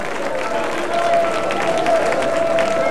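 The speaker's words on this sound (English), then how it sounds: "Clap your hands again and again." A church congregation at a prayer meeting claps their hands together, a dense, steady burst of applause from a crowd filling the whole moment, with a sustained musical tone running underneath.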